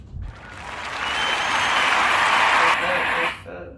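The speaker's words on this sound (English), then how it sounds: "She don't like all them applause" Loud burst of applause played as a sound effect on a talk show, swelling quickly and holding steady for a few seconds before cutting off abruptly, with a brief voice around the edges.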